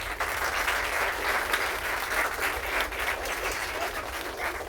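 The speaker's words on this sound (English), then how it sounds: "deserves a big round of applause" An audience at a school play staging claps in a sustained, even round of applause, dense and fairly loud throughout with no talking.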